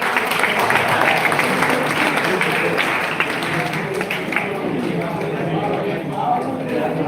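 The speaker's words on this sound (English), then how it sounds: "Let's have a big clap for Vivek" Steady applause from a student audience at a National Science Day program at a government polytechnic in Asthawan, Nalanda, many hands clapping continuously throughout, with faint voices underneath.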